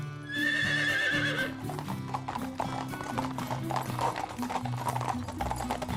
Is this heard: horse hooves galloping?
yes